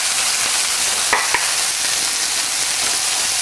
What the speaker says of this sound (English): with 2 spoons you're going to toss it like a salad